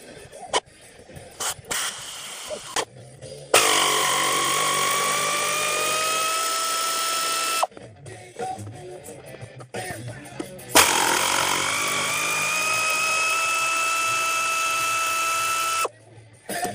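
Power drill backing out 13 mm seat bolts on a Jeep, two long whirring runs that rise in pitch as each bolt spins free, separated by clicks and handling noises, close and loud.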